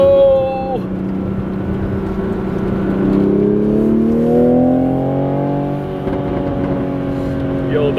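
Toyota Supra MK5 on a mountain touge run, heard from inside the cabin: engine note rising and falling through gear changes with popping exhaust burbles, loud and continuous.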